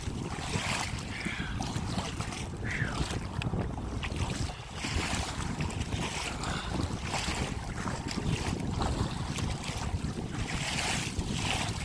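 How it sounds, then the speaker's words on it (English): Steady wind roars across an open waterway on the Intracoastal Waterway while a kayak is paddled into a headwind, with broadband gusty rushing and water noise continuing throughout without any talking. "I wouldn't be pushing all this wind"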